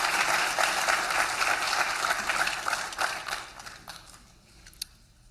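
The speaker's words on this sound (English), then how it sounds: "Round of applause." Dense applause from a crowd at a burn community reunion fills the first four seconds, then thins out to scattered claps and fades.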